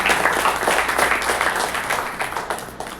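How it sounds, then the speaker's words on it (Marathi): Hearty audience applause at the Anubhav Pratishthan Solapur award ceremony in 2024, a loud, dense burst of clapping from a crowd, close and continuous, tapering slightly in the final moments. "त्यामुळे त्यांच्यासाठी जोरदार टाळ्या वाजवावं"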